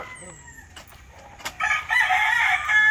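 Sweater gamefowl hens and roosters on a farm, with scattered clucks and a brief crow early on, then a louder, sustained burst of crowing and squawking from nearby birds over the last half.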